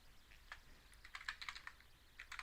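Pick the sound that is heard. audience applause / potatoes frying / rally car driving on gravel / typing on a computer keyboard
typing on a computer keyboard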